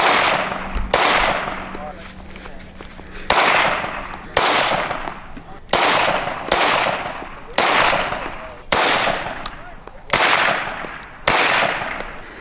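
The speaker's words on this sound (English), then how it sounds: "I chose three different ways of shooting on the shield that I thought would be options" Gunshots striking an RTS tactical shield during a police review, a series of about ten sharp, loud reports spaced roughly a second apart, each with a ringing decay, firing in a steady cadence.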